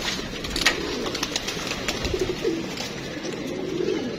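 Fantail pigeons coo in soft, repeated low murmurs close by, with faint flutters and background rustle throughout and no one speaking.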